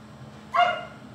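A female dog lets out a single short bark, moderately loud against a quiet room hum.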